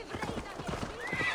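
Horse in Assassin's Creed Valhalla whinnying while its hooves clop in a steady rhythm, close and fairly loud in the game mix.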